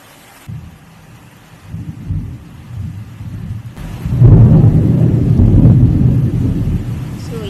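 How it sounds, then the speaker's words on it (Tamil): A thunderstorm rumbles with deep, rolling thunder that swells louder partway through over a steady wash of rain, heard close and loud from indoors at night during a power cut. "ஸோ திடீர்னு செம்ம இடி மின்னலோட மழை"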